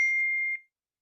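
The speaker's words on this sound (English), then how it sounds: "Those dings we heard in the first part, was that your phone blowing up?" A phone sounds a notification: a single sustained electronic ding, clean and pure, that rings for about half a second and then cuts off into silence, with no voices.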